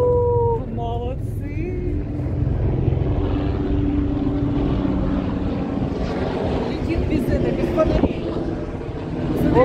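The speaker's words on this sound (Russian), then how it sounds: "Пролетел вертолет без фонарей." A helicopter flies overhead at night in Dubai without lights, its low rotor drone steady and moderately loud beneath continuous city ambience and voices for the whole stretch.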